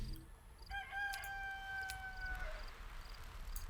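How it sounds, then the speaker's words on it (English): A rooster in the video game Black & White 2 crows once, a drawn-out call heard faintly over low background hum. "You could probably just kill the rooster if you wanted to silence it."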